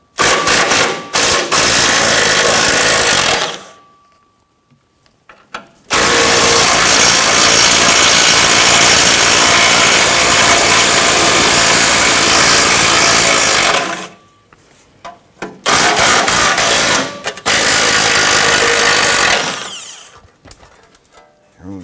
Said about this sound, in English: Use that 13mm socket and remove these bolts.